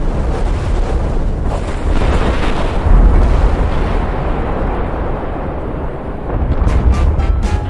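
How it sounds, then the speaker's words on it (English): Atomic bomb test explosion on Bikini Atoll in the Pacific, a loud, sustained roaring rumble with heavy low-end boom and buffeting wind, swelling and rolling on without pause. "The explosion of atomic bombs in this idyllic location"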